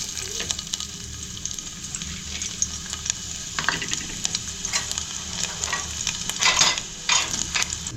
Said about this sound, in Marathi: तेल तापलंय, लसूण घालते.